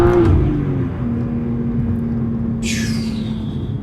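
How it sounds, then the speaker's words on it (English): A BMW M2 G87 turbocharged inline-six with a titanium equal-length exhaust holds at raised revs, a steady throaty exhaust drone after an initial rise, with a short high hiss near the end. "We just want to hear the exhaust."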